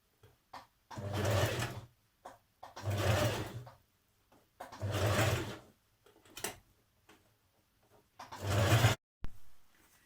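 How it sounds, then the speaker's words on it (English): A sewing machine stitches binding around the armhole of a Burda 6320 dress in four or five close, steady bursts, with short pauses and a few soft clicks between runs. "we're going to stitch in that crease there, and then again into that seam that we've just stitched"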